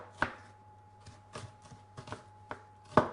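A knife finely chops an onion on a cutting board, with sharp, distinct taps at irregular intervals, close and clear with no talk.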